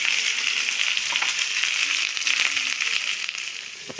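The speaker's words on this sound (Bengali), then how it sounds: "মাংসের পেঁয়াজগুলো ছেড়ে দিলাম" Sliced onions sizzle and crackle steadily in hot oil as the base for a home-cooked chicken curry, a loud, even frying hiss with faint pops throughout.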